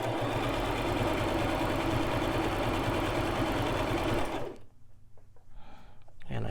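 A Brother LX3817 sewing machine stitches a blind hem on knit fabric with a rapid, even mechanical whir that runs steadily for about four seconds, then stops abruptly and leaves faint handling noise.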